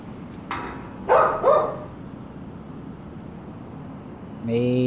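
A dog barks twice in quick succession, moderately near, over a steady low background hum, then a tonal voice-like sound starts at the end.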